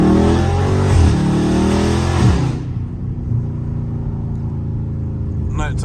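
A Scat Pack car accelerates hard through city streets at night, its loud engine roar rising then settling into a steady rumbling cruise heard from inside the cabin, with a few sharp exhaust crackles near the end.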